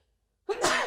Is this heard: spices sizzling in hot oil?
no